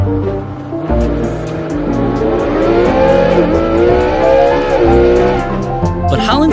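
A footballer's supercar with a very large engine revs hard, a loud sustained roar whose pitch climbs and dips over several seconds before easing off near the end.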